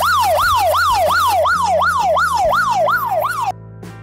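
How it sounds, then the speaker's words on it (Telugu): A phone anti-theft app's loud wailing siren alarm sweeps up and down in rapid repeated cycles, then cuts off abruptly near the end. "మీ పాకెట్లో తీయగానే వెంటనే సైరన్ శబ్దం వినిపిస్తుంది"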